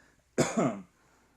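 A single close, abrupt cough with a throaty rasp, short and isolated against a quiet background.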